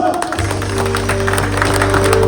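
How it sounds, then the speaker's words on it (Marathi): A group claps together at a casual get-together of old batchmates, the applause dense and continuous at close range, with crowd noise blended in and steady throughout. "जोरदार टाळ्या वाजवा"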